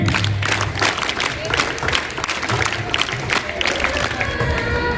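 Parents and guests give loud, sustained clapping at a camp closing ceremony, a dense crowd of hands with some cheering and a low voice murmuring beneath.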